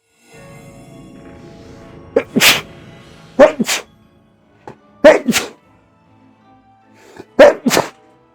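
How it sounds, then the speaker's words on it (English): Three forceful sneezes burst out one after another, each a sharp two-part explosion, over a faint background hum. "Some very aggressive sneezing."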